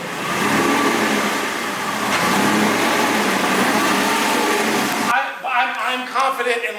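A wrecked Aston Martin Vantage drives close by, its engine revving in a loud, sustained roar with a rising surge that cuts off abruptly; people then talk briefly over quieter background noise.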